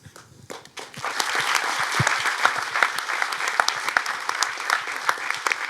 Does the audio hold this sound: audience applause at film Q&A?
yes